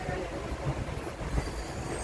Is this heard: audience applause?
no